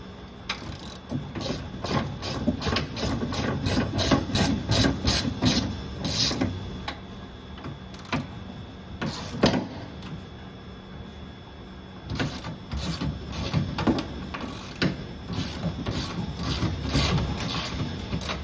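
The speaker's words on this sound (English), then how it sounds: "now we're gonna use our 19 mil and just tighten up all these studs" A ratchet with a 19 mm socket tightens the mounting studs of a 20-gallon S&B water tank under a Ford Transit, rapid rhythmic clicking in repeated bursts with short pauses, close and alone.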